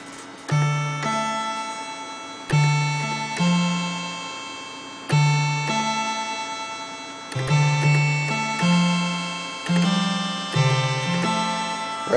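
A synth bass line with a hi-hat beat programmed in FL Studio, steady looping pulses of low tones under bright tonal hits, repeating in an even rhythm with no voices.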